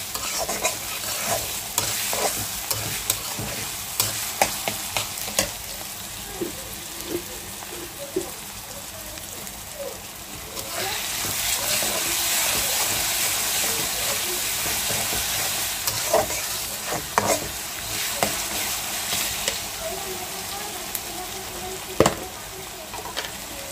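Meat cooks in a pan with ginger and green chilies, sizzling continuously with frequent stirring clicks and scrapes. The sizzle swells louder midway, heard up close at a moderate level.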